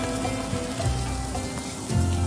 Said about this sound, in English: Foie gras is seared in a hot pan until crisp.